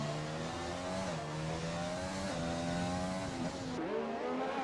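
A race car engine at Monaco in a racing video game drones and revs steadily, its pitch rising and dipping through gear changes, loud and continuous with faint tire noise.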